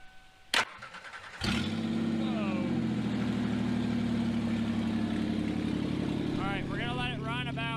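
An abandoned Ford Aerostar van with no exhaust fitted cranks and catches after a sharp click, then settles into a loud, steady, rough idle close by, with talking heard in the background.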